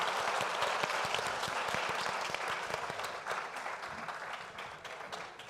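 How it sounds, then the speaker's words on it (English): Sustained applause from a conference audience after a panel on competition law and economics, a dense wash of many hands clapping that stays steady and fairly loud, easing slightly toward the end. "I'd like to ask everyone to give a round of applause for a great panel"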